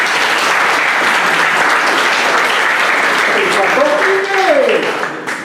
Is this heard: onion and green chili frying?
no